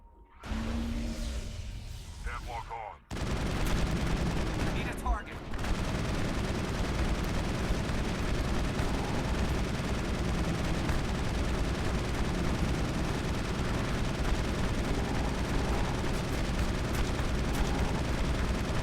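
Sustained heavy gunfire in a Mass Effect firefight using sledgehammer rounds, a dense continuous barrage that starts after a short quieter lead-in and stays loud and close throughout.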